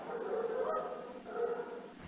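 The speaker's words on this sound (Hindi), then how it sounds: "कुत्ते के भौंकने की ध्वनियां" A dog gives a short, close bark-like yelp, then a second whining bark after a brief pause.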